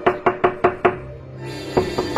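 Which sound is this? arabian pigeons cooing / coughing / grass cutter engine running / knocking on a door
knocking on a door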